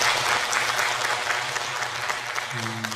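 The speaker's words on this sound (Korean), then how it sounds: "지금까지 답변해주신 전문가 네 분에게 다시 한 번만 박수 부탁드리겠습니다" Audience applause at a residents' briefing on a public redevelopment project, a sustained wash of many hands clapping for the four experts, with a low hum underneath and a brief tone near the end.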